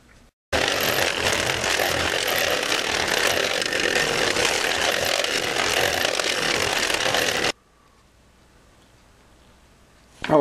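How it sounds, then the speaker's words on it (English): Power buffer polishing the painted clear coat on an FZR motorcycle, a loud continuous motor whine running for about seven seconds before cutting off, followed by quiet. "The buffer only gets into about here, but I guess you can see it's doing a very nice job."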